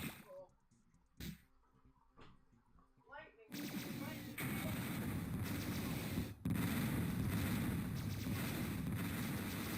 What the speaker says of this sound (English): Homing missile.